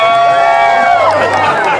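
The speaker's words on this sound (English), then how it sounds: "All right, everybody, let's clap our hands and let's get ready for Jolene." Outdoor crowd at a DockDogs dock-jumping event at Salmon Days, a steady mass of applause and cheering with voices mixed in, loud and close for the whole stretch.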